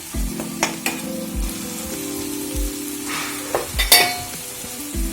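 Nepali masaura curry frying in a pan while being stirred, a constant close sizzle broken by repeated scraping and clinking strokes of the spoon against the pan.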